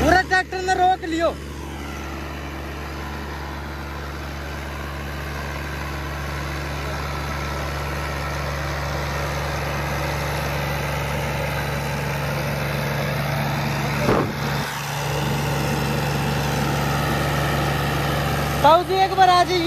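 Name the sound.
Mahindra Oja 2127 4WD tractor engine running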